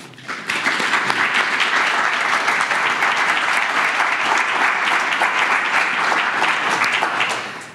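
An audience applauds to welcome a speaker at an evening lecture, steady, dense clapping from a full room that swells in quickly, holds evenly for several seconds, then tapers off.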